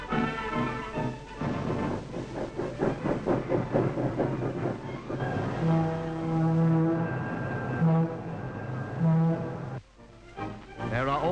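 A streamlined stainless steel passenger train rolls along the tracks with rhythmic clickety-clack and hissing, while a loud sustained horn blows in several long blasts midway through.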